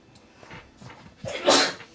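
A single sneeze bursts out near the end of a tabletop roleplaying game session, loud and close, after a stretch of quiet breathing and faint murmuring.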